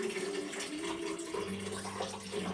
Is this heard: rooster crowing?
no